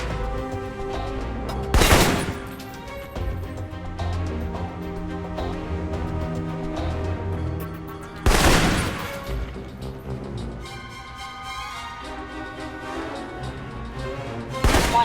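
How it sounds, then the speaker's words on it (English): Assault rifle gunfire in the video game Alpha Protocol: two loud, sharp bursts several seconds apart stand out over a quieter continuous game soundtrack, with a third shot starting right at the end. "For long-range encounters, the assault rifle's the key."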